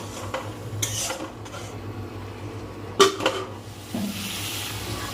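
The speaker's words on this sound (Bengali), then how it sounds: "একটু মাঝে মাঝে জল দিয়ে ঢাকা দিয়ে দিয়ে মশলা কষিয়ে নিচ্ছি" Spice masala sautéing in a covered pan with splashes of water, utensil clinks and scraping strokes over a faint sizzle, with one sharp metallic knock midway.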